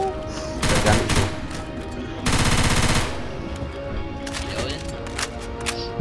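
Gunfire in Left 4 Dead 2, loud close bursts of rapid automatic fire, one short burst and then a longer sustained one, followed by scattered single shots and game noise.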